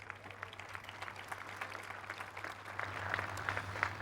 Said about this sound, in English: I hear a round of applause for his service